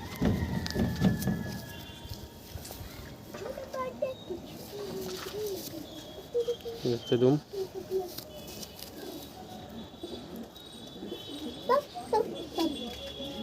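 Heavy show-quality pigeons in a loft coo in soft repeated bursts up close, mixed with wing flutters and faint chirps while someone talks over them.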